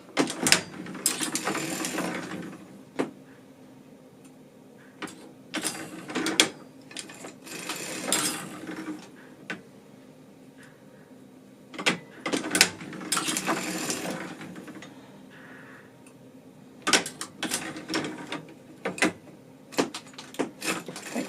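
An antique hand-cranked sock knitting machine rattles and clicks in repeated bursts as the cylinder turns and the needles work, with quiet gaps between cranks, close and moderately loud.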